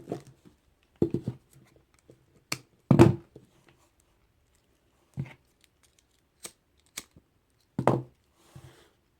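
Scissors snip through kandi string on a beaded skull bracelet in a handful of sharp, separate clicks with quiet handling noises between them, close and spaced out.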